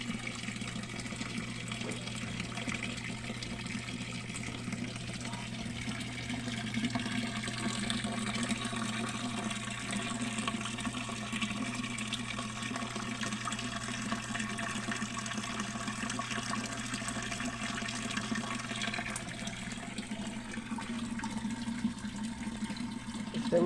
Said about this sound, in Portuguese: Olha a água jorrando lá, 24 horas lá